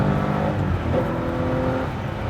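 A 1975 Porsche 911 Carrera accelerating hard through short gears, its engine a loud, continuous rising drone heard from inside the car, with a brief dip as it shifts.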